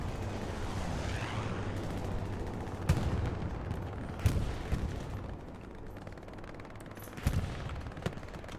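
Heavy gunfire from a strafing run in the World War II shooter Hell Let Loose, a dense continuous rumble of rapid shots and blasts with a few sharper impacts standing out, no talking.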